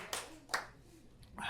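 A few scattered, sporadic claps break out from a sparse comedy show audience, with voices around them.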